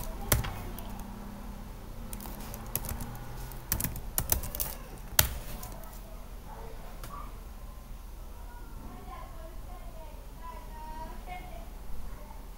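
Commands being typed on a Chromebook keyboard make a burst of quick, close clicks and taps in the first half, then thin out under a low room hum while a voice speaks faintly.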